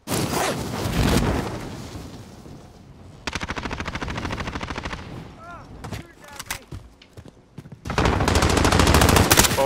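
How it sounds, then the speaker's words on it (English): Automatic weapon fire in the Warzone battle royale game comes in rapid close bursts, with dense rattling stretches broken by short pauses and a loud burst at the end. "Oh, I'm getting shot at."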